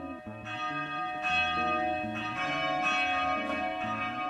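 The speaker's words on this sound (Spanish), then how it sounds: "La campana del monasterio le devolvió al tiempo real" A monastery church bell rings loud and close, with overlapping strikes whose resonant tones sustain and blend together, with no voices.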